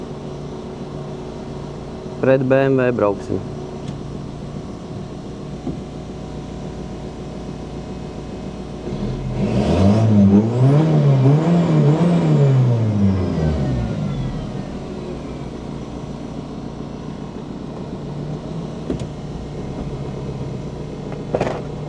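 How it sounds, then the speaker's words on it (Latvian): A car engine idles and warms up before driving to the start of a race, with a steady low rumble and a swell of revving midway, while people talk over it. "bišķi pasildīšu motorītu un braucu uz startu"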